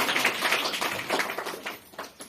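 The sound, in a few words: women clapping at empowerment program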